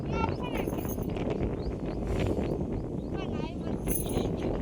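Strong gusting wind buffets a phone's microphone, a loud, continuous low rumble and roar, with voices talking over it at times.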